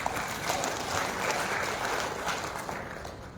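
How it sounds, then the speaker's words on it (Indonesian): A seminar audience at a university opening ceremony claps in steady, dense applause for a few seconds at moderate loudness. "Kita beri aplaus untuk beliau."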